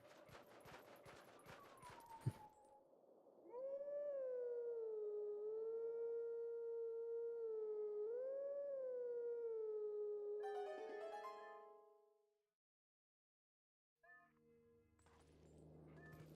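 A wolf howls in The Legend of Zelda: Twilight Princess, one long sustained tonal howl with slight pitch rises, set between bursts of game sound effects and music.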